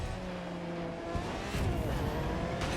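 Racing cars in The Crew 2 roaring past in a steady, dense engine blur with rising and falling pitch, loud and close, tires hissing beneath.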